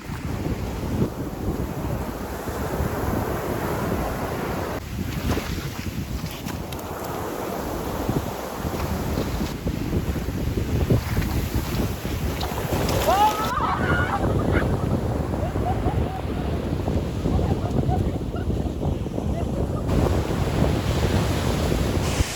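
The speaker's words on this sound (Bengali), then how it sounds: "এখন জোয়ার আছে, কত সুন্দর ঢেউ আসছে দেখো" Sea waves rolling onto Dublagadi beach at high tide, a continuous roaring surf with swelling and receding surges, buffeted by wind against the microphone, loud and close throughout.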